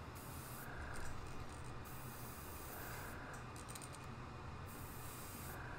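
A continuous hiss of spray paint applied to a fishing lure, faint and steady, with slight surges in intensity throughout.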